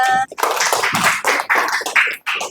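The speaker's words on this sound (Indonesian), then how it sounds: "Tepuk tangannya." An audience at a university event claps briefly, a short patchy burst of close hand claps mixed with a few voices.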